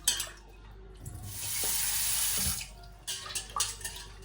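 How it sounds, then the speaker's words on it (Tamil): Water runs and sloshes close by as lentils are rinsed in a bowl under a tap, with soft stirring and splashing, then a few brief clatters near the end. "பருப்பை அப்படியே கழுவி எடுப்போம்"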